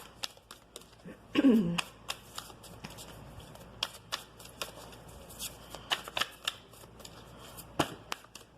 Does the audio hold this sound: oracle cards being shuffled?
yes